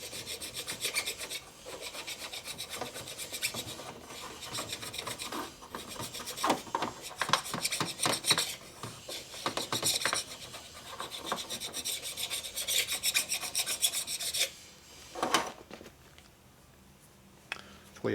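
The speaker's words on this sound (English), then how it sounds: "So let's scrape this piston." A carbide scraper rasps repeatedly across the crown of an S&S 113ci Evolution Harley motorcycle engine piston, giving close, steady scraping strokes that break off briefly near the end.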